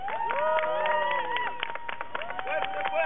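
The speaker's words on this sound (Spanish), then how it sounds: "Pido un minuto de aplausos y alaridos para que nos oigan hasta allá y sientan esa fuerza" A crowd at a street rally for justice in Mexico claps and shouts loudly, with many overlapping cheering voices and scattered applause, dense and continuous.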